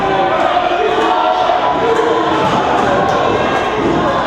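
A wrestling crowd cheers loudly and steadily, a dense roar of voices with no pauses.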